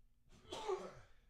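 A single short sneeze in a live sports talk show, faint and brief, a sharp burst after a quick inhale with no speech over it.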